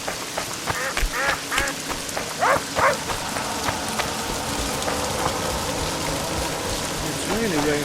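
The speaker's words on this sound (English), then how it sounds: "It's really raining now." Steady rain falls in a village in The Witcher 2: Assassins of Kings, a constant patter running under game sounds that include voice-like cries and calls early on.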